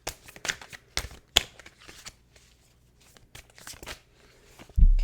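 A tarot deck being shuffled and a single card drawn: close, quick riffling and flicking bursts, then a softer pause and a thump near the end.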